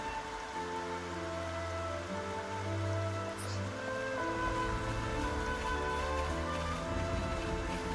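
Steady rain patters throughout a scene in the video game Xenoblade Chronicles, a constant wash of falling drops layered under looping game music and ambient tones, with no voices.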